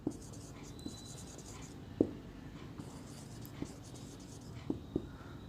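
A pen draws the principal axis line on paper during a Class 10 physics lesson, giving faint, soft scratching with a few light taps against a quiet background.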